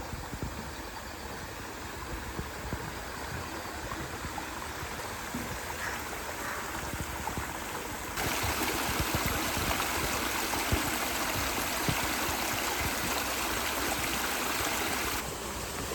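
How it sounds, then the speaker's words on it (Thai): A waterfall rushes steadily on the wooded grounds of a Khao Yai resort, a dense broadband roar with no talk over it, growing noticeably louder and closer about halfway through before easing slightly near the end. "เสียงน้ำตก เสียงน้ำตก"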